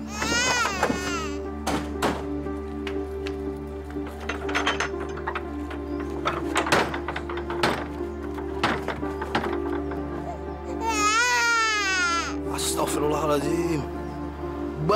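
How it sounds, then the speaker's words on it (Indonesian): A baby cries in the distance, with wailing bursts near the start and again toward the end, heard under mechanical clicks, knocks and a steady low hum. "Tuh, kayaknya suara bayi tuh."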